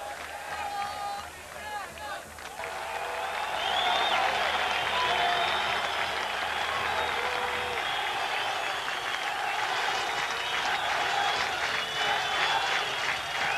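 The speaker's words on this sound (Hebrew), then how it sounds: "קהל ססגוני ויפה של בני יהודה מקבל את השחקנים כאשר הם עולים למגרש" Bnei Yehuda supporters in a stadium at a 1988/89 football match applaud and cheer as players take the field, a broad rolling crowd roar building after a quieter start, with a commentator talking over it.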